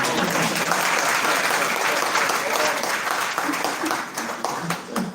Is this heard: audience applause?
yes